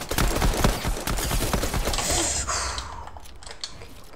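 Pistol gunfire in a Money Wars video game comes as a quick series of sharp, snappy shots with clicky keyboard-like rattling, loud at first and then fading.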